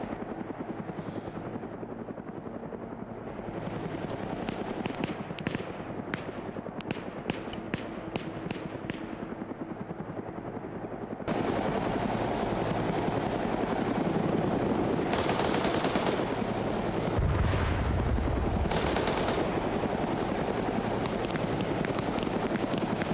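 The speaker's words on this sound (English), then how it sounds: "I bet you he's firing at the dudes on that spot." Military shooter gameplay with a helicopter engine droning steadily throughout while rapid gunfire bursts crackle in the first half, then a louder, denser continuous roar of rotor and weapon noise takes over.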